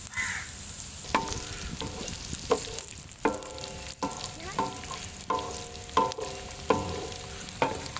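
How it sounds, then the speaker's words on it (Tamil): Small chopped garlic sautés in a pan for a village-style intestine fry. A soft, steady sizzle and light stirring scrapes sit under a series of repeated outdoor crow caws, with no one speaking. "உள்ளியும் போட்டு வதக்குங்க."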